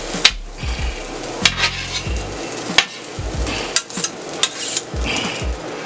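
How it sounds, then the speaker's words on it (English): Fried rice with soy sauce and sesame oil is tossed on a hot flat-top griddle with metal spatulas, making sharp scraping clanks at an irregular pace over a steady sizzle, close and fairly loud, with no talking. "let's mix this soy sauce and sesame seed oil up in here"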